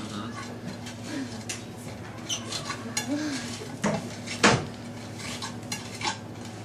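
A knife blade mashing a chopped mixture with salt into a paste on a board, soft scraping and tapping strokes with a few clinks, heard close up over quiet kitchen background.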